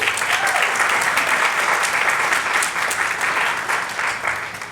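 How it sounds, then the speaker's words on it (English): Guests at a 21st birthday party break into loud, dense applause, many hands clapping at once, steady at first and then gradually thinning and fading toward the end. "So a big round of applause, please."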